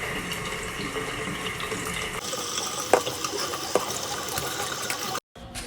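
Steady running water from a sink tap while a face is washed with foaming cleanser, a continuous close splashing rush with a few small splashes, ending in an abrupt cutoff.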